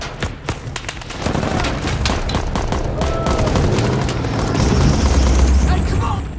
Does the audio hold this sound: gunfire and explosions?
yes